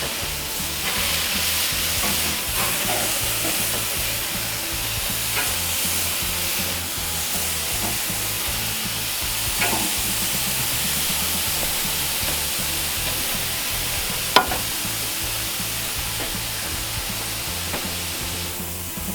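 Kalbi-marinated beef short ribs sizzle steadily on a hot grill, a close, continuous crackling hiss with small pops and one sharp snap near the end, no voices.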